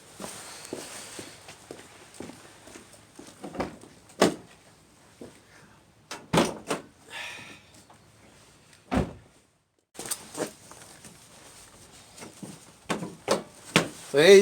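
The hood of a 2002 Honda Civic with a replaced latch is lowered and closed. Several solid, close thuds stand out against quieter footsteps, shuffling and handling noises.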